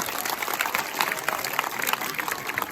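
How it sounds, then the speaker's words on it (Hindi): An audience at the Sadh Panchami fair festival clapping together, a dense, fast patter of many hands that carries evenly at moderate volume. "इसलिए जोरदार ताली है ना।"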